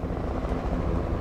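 Helicopters in a video game match, a steady loud rotor drone with dense low-end rumble filling the whole short stretch without a break.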